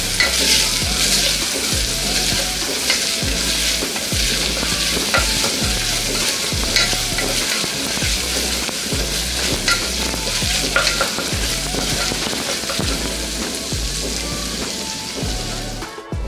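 Onions frying in a pan, a loud, continuous close sizzle with steady stirring and scraping throughout, alone with no voices.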